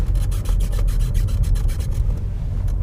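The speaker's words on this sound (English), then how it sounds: "also constantly rattles somewhere over there by the glove box" Centre console of a VW T-Cross 1.0 pressed with a knee, giving a rapid run of scratchy, rubbing rattles over a loud low road rumble inside the moving car, with no talking.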